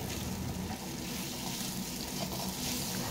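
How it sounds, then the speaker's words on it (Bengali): Soybeans fry in a pan over medium-high gas with a constant sizzling hiss and scattered crackles, close by, with no talking. "সয়াবিনগুলো ভেজে নিচ্ছি।"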